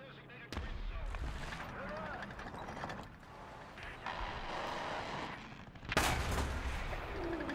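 Gunfire in the War Thunder combat game: a sharp shot near the start and a louder blast around six seconds, over a steady rumble of engine and battle noise, with people talking throughout.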